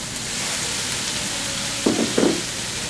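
Diced tomatoes go into a hot pan, giving a continuous soft frying sizzle that flares into two brief louder crackling bursts near the end. No one speaks.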